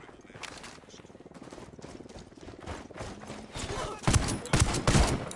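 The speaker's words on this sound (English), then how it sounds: "Opening fire on these fuckers." Gunfire in a tactical shooter game, rapid bursts of shots building from a quieter start to louder, heavier volleys toward the end.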